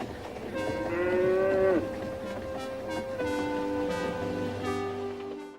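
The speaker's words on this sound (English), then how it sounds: "Moo, said the cow." A cow lets out a long, drawn-out moo, loud and near, followed by further lower lowing calls over a rumbling background.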